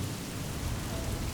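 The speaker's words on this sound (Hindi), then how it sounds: "धीरे धीरे मौसम खराब होने लगता है और तेज बारिश शुरू हो जाती है।" Heavy rain pours in an even, close, broadband wash that holds steady for the whole brief stretch, with a low rumbling undertone and no voices.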